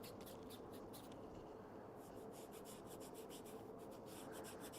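Sports strapping tape being rubbed down onto the foot to smooth it, a steady close scuffing friction with repeated brisk strokes, continuous throughout with no talking.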